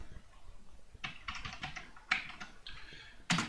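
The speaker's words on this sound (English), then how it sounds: "I'm going to start typing here." Computer keyboard typed in quick bursts of close, crisp clicks with short pauses between flurries, alone with no talk.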